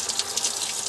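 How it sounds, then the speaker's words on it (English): Tap water gushing steadily onto a granite switch plate at a drill press, a continuous close hiss and splash with no voices. "Let's turn some water on."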